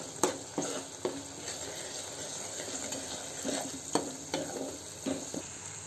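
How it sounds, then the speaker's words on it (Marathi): A masala of turmeric, coriander powder, garam masala and chilli powder sizzles gently in oil, with a handful of spoon scrapes and knocks against the pan scattered through a quiet, close, voiceless stretch. "हे मिश्रण परतून घेऊ"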